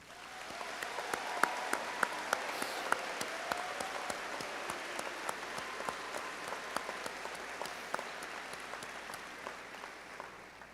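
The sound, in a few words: audience applauding graduating students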